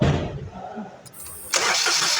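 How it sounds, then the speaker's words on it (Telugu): A car engine cranks briefly and then catches, settling into a steady running idle. The sound is close and loud, and a voice may be faintly present at the start. "ఇంజన్ ఆన్ చేసాము"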